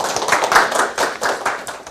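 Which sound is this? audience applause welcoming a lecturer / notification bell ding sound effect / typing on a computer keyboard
audience applause welcoming a lecturer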